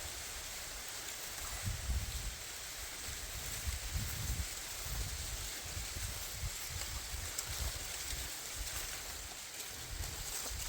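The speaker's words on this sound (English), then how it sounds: "Right now the wind's blowing, and you can hear the sound through the corn." Wind sweeps through a field of tall corn with a soft, continuous rustle and low gusty rumbles on the microphone, faint and distant-sounding.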